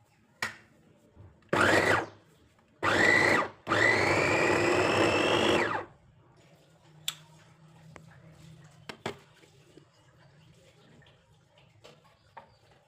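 A kitchen mixer grinder crushes four mild green chillies with green garlic in three bursts: two short whirring pulses, then a longer grinding run of about two seconds. Quiet clinks and small knocks follow once it stops.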